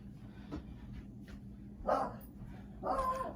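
Indoor dogs bark at someone approaching the front door, a soft distant woof followed by two louder, closer barks about a second apart over a low room hum.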